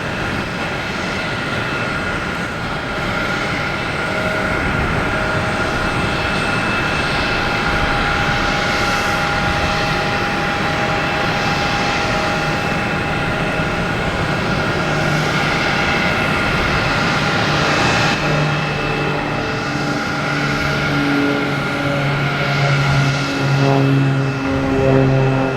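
A Cessna 402 twin-engine propeller plane takes off at Boston Logan Airport at night, its steady, loud engine drone filling the scene throughout with a rising hum toward the end and no talk.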